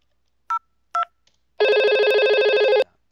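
Analog phone ringing through a Cisco IP phone lab setup: two short tone bursts like dialing, then a loud continuous warbling ring lasting over a second, close and alone.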